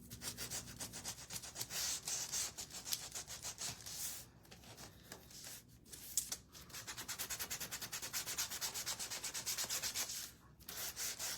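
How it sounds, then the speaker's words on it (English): Steady back-and-forth hand sanding of a wooden easel piece, making a thick sanded line. Close and continuous with a rapid rasping rhythm, broken by a few brief pauses. "So I'm kind of making my sanding line pretty thick."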